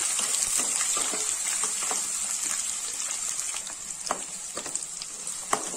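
Small onions and garlic fry in a pan for garlic rice, with a continuous bright sizzle and occasional stirring scrapes, close and moderately loud, with no voices.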